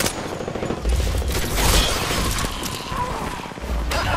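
Apex Legends gunfire: dense, loud volleys of rapid shots with crashing, shattering impacts, heard nearly throughout.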